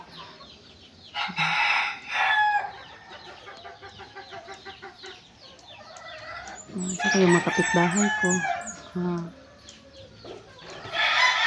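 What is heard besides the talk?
chickens and roosters crowing nearby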